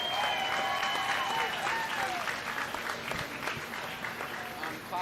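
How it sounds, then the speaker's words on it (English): Audience applause at a junior livestock showcase at a county fair and rodeo, a steady dense clapping from a crowd that carries on at even loudness for the whole stretch. "Let's give one more big round of applause for Ryan Rash."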